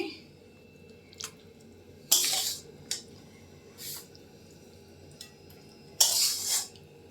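Cooked spinach and pond snails are tipped from a utensil into a cooking pan in two short, bright scraping bursts, with faint clinks in between against a quiet background.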